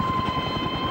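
A military rescue helicopter flies overhead, giving a steady, continuous rotor and engine drone at moderate loudness with no talk.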